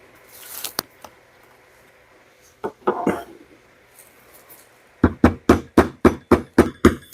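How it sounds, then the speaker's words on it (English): Smooth polished hammer tapping glued leather on an axe mask, a few scattered knocks and rustles followed by a steady run of about nine sharp close taps. "I'm using a very smooth, polished hammer on this because I don't want to leave any marks on the leather"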